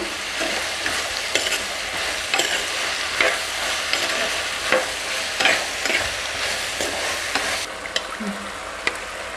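Brinjal and okra fry in oil in a clay pot for a seer fish curry, a continuous close sizzle broken by regular rhythmic stirring scrapes, no voices.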